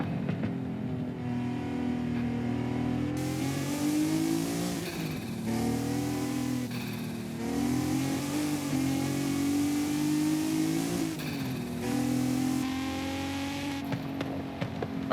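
A car engine in Forza Horizon 5 revving continuously, rising and falling through several gear shifts with a steady, loud, up-close drone and no talk.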